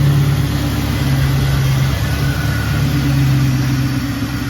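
An LS-swapped car engine with a fuel pressure problem runs at a steady idle, a loud, close, continuous mid-pitched rumble with no voices.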